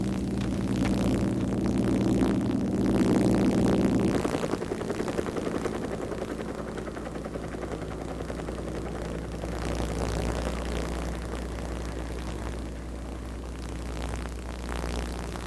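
A helicopter flies while carrying a statue piece for Our Lady of the Rockies toward a mountain. Its engine and rotor make a loud, steady mechanical drone that eases slightly after a heavier opening few seconds.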